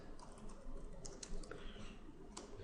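Rapid typing on a computer keyboard, a quiet, steady patter of key clicks close by, with no talking.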